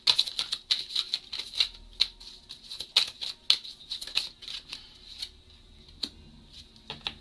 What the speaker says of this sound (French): Faut que j'arrête de parler pendant que je tire les cartes